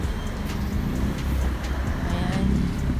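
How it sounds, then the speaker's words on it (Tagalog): Victory Liner buses and other traffic pass along Fiorentino Street at night. A steady, loud, close rumble of engines and road noise continues throughout, with faint voices underneath. "Mga bus dumadaan, Victory Liner na bus number 807."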